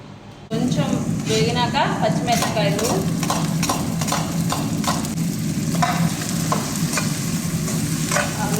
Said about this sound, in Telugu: కరివేపాకు పచ్చిమిరపకాయలు ఎర్రగడ్డలు ఇవన్నీ వేసి బాగా వేసుకుంటాం